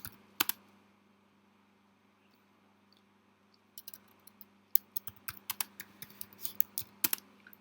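Keystrokes on a Mac keyboard: a couple of isolated clicks early on, then a quiet stretch, then a steady run of light, fairly faint taps through the second half, with no voices.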